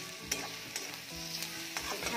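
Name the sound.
cleaned fish pieces added to frying masala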